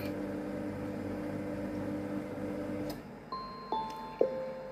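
A Monsieur Cuisine Smart kitchen machine finishes its program: a steady motor hum stops, then three clear electronic chime tones ring out one after another, close and alone.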